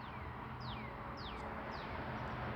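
A bird calls four times in short descending chirps, spaced evenly, faint against a steady background hiss.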